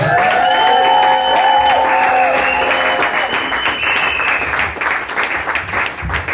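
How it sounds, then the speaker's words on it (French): A church congregation applauding and shouting acclamations during a sermon; sustained, loud crowd clapping with raised voices and cries over it, tapering slightly toward the end. "Est-ce qu'on peut pousser les cris d'acclamation?"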